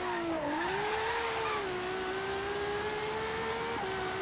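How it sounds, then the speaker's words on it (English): A Ferrari LaFerrari in Forza Horizon 3 blasts through a tunnel, its engine a loud sustained tonal roar holding a steady pitch with a brief drop and recovery near the start and a quick gear shift late. "Let's get a little tunnel blast going here in the Ferrari."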